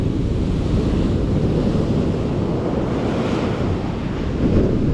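Sea surf washes steadily onto the Karasu shore during shore fishing for bluefish, a loud continuous roar of breaking waves mixed with wind buffeting the microphone and no voices.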